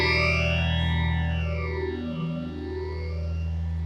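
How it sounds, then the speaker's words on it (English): Electric guitar through a PastFx rotary phaser set to 10-stage mode with feedback, sustained notes swept by a deep, swirling whoosh, loud and close with no talking. "I love that with a bit of feedback on 10-stage mode."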